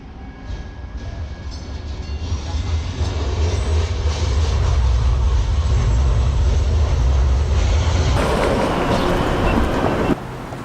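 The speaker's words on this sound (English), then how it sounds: "Here comes the train" A loud train rumbles past nearby in Baltimore, a heavy steady roar with rattling wheels that swells and holds for several seconds before shifting abruptly near the end.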